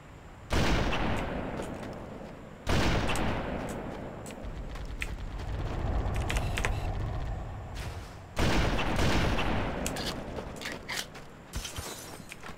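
Sniper rifle fire in the Halo CE Special Edition mod, three loud sharp shots spaced several seconds apart, each followed by a long booming decay over a busy game soundscape, with no talking.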